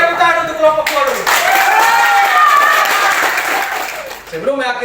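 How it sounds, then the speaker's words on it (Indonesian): A class of students claps for a group after a classroom lesson, a burst of applause lasting a few seconds with a teacher's voice speaking over the start and end. "Ini tepuk tangan untuk kelompok 2 dulu."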